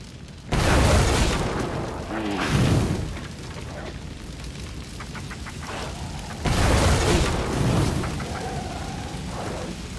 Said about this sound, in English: Man, it's exploding.